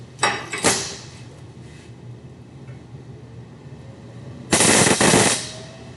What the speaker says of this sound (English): So tack weld it in place.